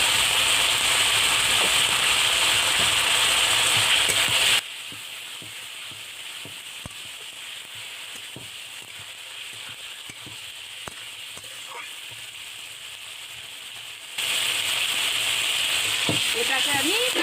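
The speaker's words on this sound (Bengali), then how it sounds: "এবার আমি মাংসটাকে ভালো করে কষিয়ে নেব।" Chicken pieces with salt and turmeric sauté loudly in a hot pan, a dense crackling sizzle that drops to a quieter hiss for several seconds, then returns at full strength.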